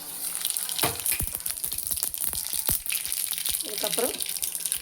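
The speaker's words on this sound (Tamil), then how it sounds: "நம்ம எண்ணெய் சட்டி காய வச்சு இப்போ நம்ம தாளிச்சிக்கலாம்" Mustard and cumin seeds sizzle and crackle in hot oil in a pan, a tempering for egg curry. Sharp pops stand out over a steady frying hiss, with a voice speaking briefly near the end.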